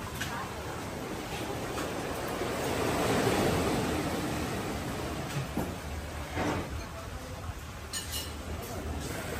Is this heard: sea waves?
yes